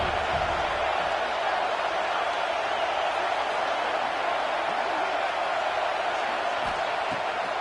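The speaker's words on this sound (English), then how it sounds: "The roar of the crowd trying to fuel this defense to keep them pinned in their own end." A college football stadium crowd at an Arkansas vs Clemson game roars, a broad, steady wash of distant noise that holds evenly for several seconds without a break.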